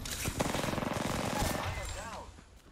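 Rapid bursts of gunfire from an Apex Legends firefight, a fast automatic rattle that stays loud and close across the moment before tailing off, with a player's voice talking over it.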